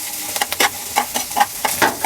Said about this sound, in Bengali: এরপরে আমি এর মধ্যে কাঁচামরিচ কুচি দিয়ে দিচ্ছি।